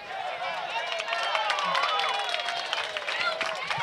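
A stadium crowd at a high school football game at Harris Field claps and cheers steadily in the distance, while an announcer talks over it.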